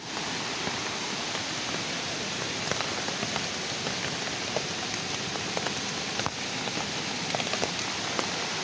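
Rain of the season's first monsoon falls steadily in a bright, even hiss, scattered drops pattering close by on a surface, with no one speaking.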